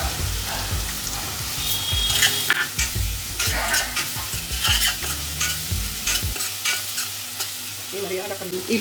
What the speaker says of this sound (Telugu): ఇది బాగా ఆయిల్లో వేపుకొని పచ్చివాసన పోయేంత వరకు వేపుకొని